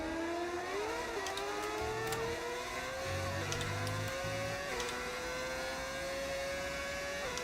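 A Formula One car engine whines and revs in the game F1 25, pitch climbing and dropping with quick gear shifts, steady and mechanical with no talking.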